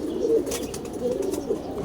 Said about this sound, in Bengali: 71 কিলো চ্যাম্পিয়ন কবুতর।